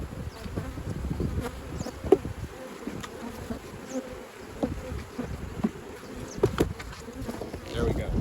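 A dense swarm of honey bees buzzes close by at a box absolutely full of bees during hive splitting, a constant droning hum with individual bees zipping past the microphone.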